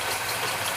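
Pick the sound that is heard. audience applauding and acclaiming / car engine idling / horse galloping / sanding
car engine idling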